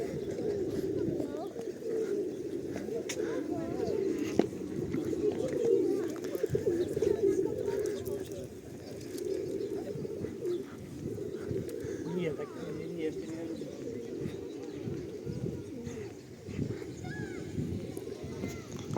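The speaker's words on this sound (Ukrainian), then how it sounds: "Голуби, як завжди, вилетіли на відпочинок до бювету." Soft pigeon cooing under steady outdoor background noise near a mineral water pump room in Truskavets, with a train passing and low murmured talk now and then.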